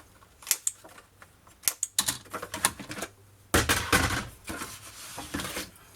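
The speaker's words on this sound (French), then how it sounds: "Je vais arrondir les coins." A paper corner punch rounds the corners of folded paper for a Christmas accordion photo album, giving a series of sharp clicks and clacks, a few spaced then a denser louder burst, close up with no talk.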